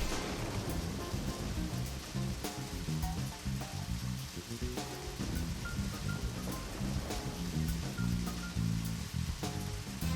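Rain falls steadily in the video game Deadly Premonition, a soft continuous patter mixed with quiet background music tones and no voices.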